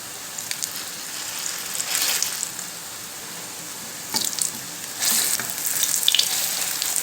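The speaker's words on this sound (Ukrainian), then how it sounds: "Смажимо на середньому вогні з обох сторін до золотистої кірочки." Potato patties sizzle and crackle in a hot pan over medium heat, a steady hiss with louder bursts of spattering toward the end, no voices.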